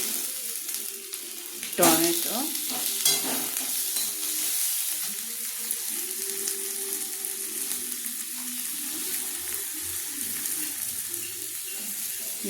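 Ground spices tipped one by one into onion and ginger frying in a pan, giving a sharp burst of sizzle followed by steady close frying and scraping stirring strokes.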